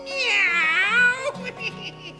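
A cat meows loudly up close, one long drawn-out wavering cry followed by shorter, softer mewing sounds, with no other noise around it.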